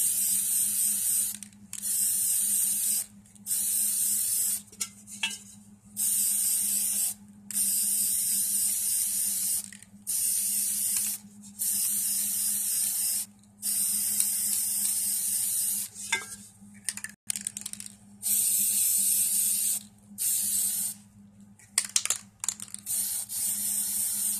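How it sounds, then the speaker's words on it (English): Repeated bursts of hissing spray, each lasting a second or two, separated by brief pauses, close and loud. "I don't know if y'all seeing me spray this or not."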